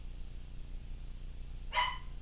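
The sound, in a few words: dog barking in the background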